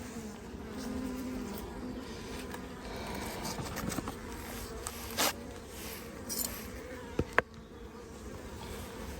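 Honeybees buzz steadily around a brood frame lifted from a hive during swarm-making, a dense continuous drone close by with a few brief clicks and knocks, no talking.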